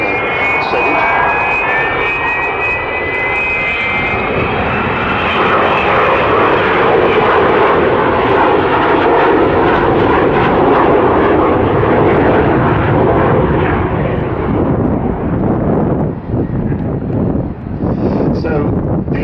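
An Avro Vulcan jet bomber's engines roar loudly as it passes overhead in an air display at Waddington, a rising whine giving way to deep, rumbling thunder, with wind buffeting the microphone.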